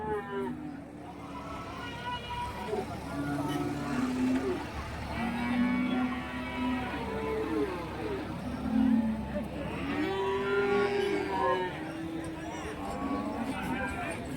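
Cattle and calves lowing repeatedly at the Karimangalam cattle market in Dharmapuri district, Tamil Nadu. Several moos come from near and far over a busy crowd of murmuring voices and a background engine rumble.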